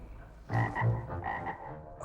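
A frog croaks close and clear, a pair of quick low croaks followed by a few more irregular calls over roughly a second and a half.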